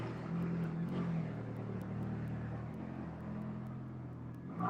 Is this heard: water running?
no